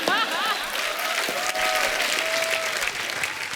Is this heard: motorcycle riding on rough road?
no